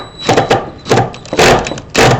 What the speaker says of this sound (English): that's the sound of stripping